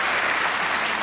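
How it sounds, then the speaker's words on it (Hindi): A studio audience at a Pakistani comedy talk show claps in a dense, even burst of applause, loud and continuous for the whole short moment. "हसन भाई के लिए तालियां होनी चाहिए"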